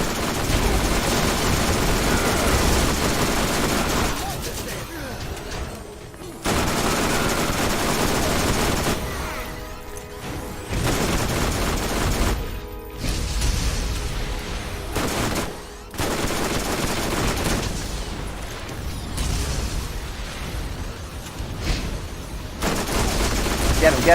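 Rapid, loud gunfire from a weapon in the video game Borderlands, sustained bursts with short pauses between them, a dense fusillade running throughout.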